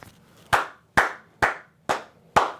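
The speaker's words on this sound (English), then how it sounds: "I'm going to clap it up to Jim." Five sharp hand claps spaced about half a second apart, loud and close, ringing out alone over a faint low background hum.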